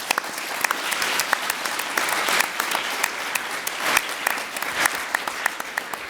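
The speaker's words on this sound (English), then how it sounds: "So if you'd like to join in a round of applause." Conference audience at a plenary session gives a sustained round of applause, dense overlapping hand claps with individual sharp claps standing out, fairly close and even throughout.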